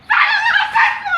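A dog in a backyard lets out a single drawn-out, high whining yelp, close and loud, lasting about a second.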